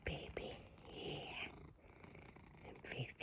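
A cat purrs softly and steadily up close, a low rumbling drone running underneath, while a person talks to it in a gentle, cooing voice.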